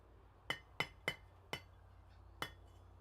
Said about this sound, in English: I'm using the wrong side of the hammer